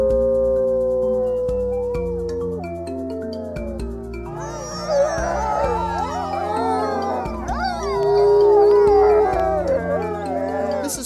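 Wolves at a Minnesota wildlife center howl together, several long, rising and overlapping voices that swell into a loud, layered chorus with yips near the end, close and continuous.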